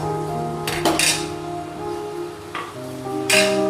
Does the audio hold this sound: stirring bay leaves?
yes